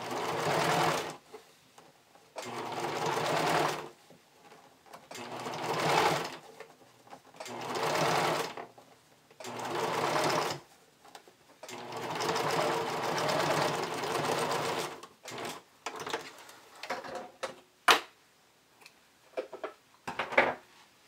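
A sewing machine stitches the seam of an underwire bikini top in repeated bursts of steady running, separated by short pauses, with sparse handling clatter in the final seconds.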